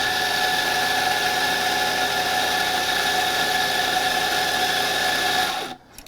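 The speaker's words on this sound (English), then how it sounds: "I have the grinder set to 6 seconds, and I want to weigh the output." A Hey Cafe Buddy espresso grinder runs steadily through a timed dose of coffee beans, a loud, even motor whine with a strong grinding buzz that cuts off abruptly near the end, leaving near silence.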